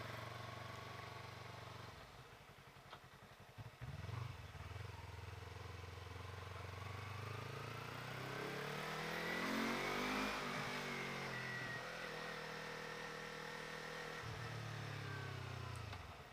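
A Yamaha MT-25 twin-cylinder motorcycle being ridden, with a steady engine drone that rises and falls through throttle changes, with a rev climb and engine braking as the gas is released.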